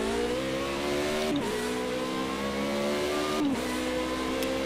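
Car engine in the racing video game Project Cars 2 revving steadily with rising pitch, dropping sharply at two gear shifts before climbing again, loud and continuous with no talking.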